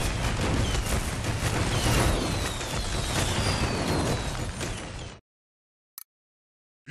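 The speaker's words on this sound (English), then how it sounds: "Celebrate the apocalypse with this fireworks launching weapon that explodes" In the Sunset Overdrive game, a fireworks-launching weapon fires and its shells explode on impact, making a dense, loud, crackling barrage of bursts and booms for about five seconds before cutting off abruptly to silence.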